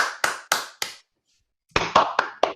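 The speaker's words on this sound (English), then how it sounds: "So I would like us all now to give him a round of applause" Scattered claps from a handful of online call participants, a few sharp single hand claps, a pause, then several more, close and uneven rather than a crowd.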